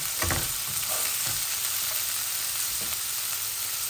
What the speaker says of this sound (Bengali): আমার পেঁয়াজগুলা ভাজা ভাজা হয়ে গেছে।